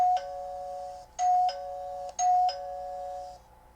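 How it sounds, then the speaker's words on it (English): New doorbell chiming indoors, three repeated two-tone ding-dong rings about a second apart, each ring bright and sustained before fading, heard clearly over a quiet room with no talk. "I got a new bell today. So now when the doorbell goes"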